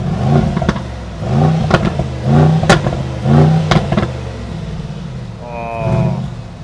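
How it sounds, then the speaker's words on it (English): A Mercedes-AMG GLE 63S, US-spec V8 without a particulate filter, revs with its exhaust open in a series of rising, throaty bursts at close range, with a brief whir near the end. "it's time to listen up to the sound of this V8 monster GLE 63S. The exhaust is on."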